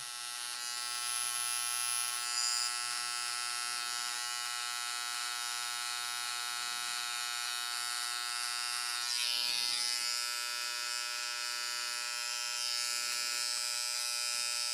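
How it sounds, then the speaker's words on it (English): An electric outliner trimmer buzzes steadily while neatening a beard neckline, its even whine swelling slightly as it presses against the skin. "we're going to tune up with the outliner"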